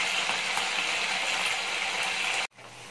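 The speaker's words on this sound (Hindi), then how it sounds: "ऑयल गर्म हो गया है, चिकन डालेंगे हम एक एक करके। गैस की फुल रहेगा, हमें डीप फ्राई करना है चिकन को" Chicken pieces deep frying in hot oil on a full gas flame for chilli chicken, a loud steady sizzling hiss that cuts off abruptly near the end, leaving only faint background hum.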